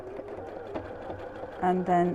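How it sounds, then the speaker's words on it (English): A sewing machine fitted with a regular zigzag foot stitches fabric pieces for reversible quilt-as-you-go blocks. It hums steadily under a woman's speech, then runs louder in two short bursts near the end. "I've just got my regular zigzag foot on the sewing machine"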